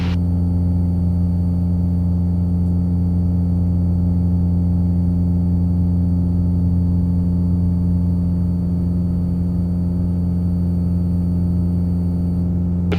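Cessna Cardinal light airplane engine at high power during a takeoff roll, a steady loud droning hum with strong low harmonics holding constant throughout.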